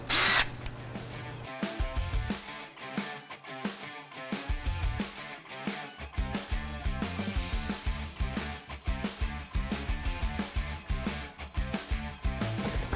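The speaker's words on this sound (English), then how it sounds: "Put your drill on slow." A power drill on slow speed mixes a two-part concrete-look wall coating in a bucket, its motor whirring loudly and steadily with rhythmic surges as the paddle churns, with no talking.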